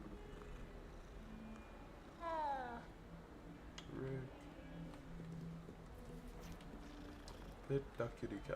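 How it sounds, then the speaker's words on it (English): A cat meows in a video game, a short run of rising harmonic cries near the middle, with game sounds and a voice speaking around it. "Pet the kitty cat."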